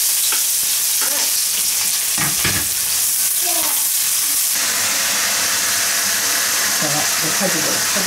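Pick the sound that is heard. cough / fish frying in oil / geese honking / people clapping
fish frying in oil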